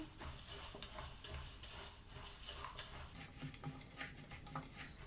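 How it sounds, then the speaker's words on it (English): Energy bar ingredients, oats and nuts among them, get mixed together in a bowl, giving a steady close scraping and stirring texture with soft clicks throughout, with no talking. "we're gonna mix the whole thing"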